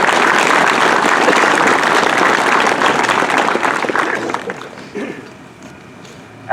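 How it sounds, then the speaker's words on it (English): Audience applause honoring military veterans at an Honor Flight ceremony, a dense sustained burst of clapping that stays loud for about four seconds, then thins out and fades, with a few scattered claps near the end. "So give everyone a round of applause,"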